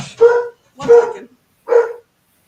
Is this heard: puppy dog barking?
yes